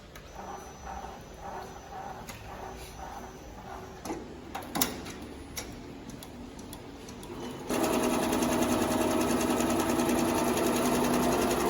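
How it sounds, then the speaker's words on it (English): An automatic embroidery machine stitches a cap with a fast, rhythmic mechanical chatter and occasional ticks, then shifts into a louder, steady whirring run partway through. "And then the machine will do embroidery automatically."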